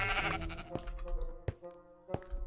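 A sheep in Minecraft gives a few short, close, loud bleats, interspersed with sharp clicking game sounds.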